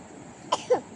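A child coughs twice in quick succession after choking, close by and fairly sharp, the second cough slightly longer, against a quiet outdoor background by a river in rural Konkan.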